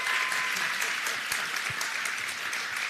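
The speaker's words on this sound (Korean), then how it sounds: "박수를 한번 쳐주시죠" Audience applause at a book concert, a steady dense wash of clapping from a seated crowd, continuous and fairly loud through the moment.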